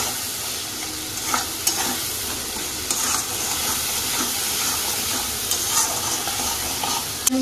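A mixed vegetable curry with cumin and coriander powder is stirred in a hot pan, giving a constant loud sizzle with repeated spoon scrapes and taps against the pan, close up.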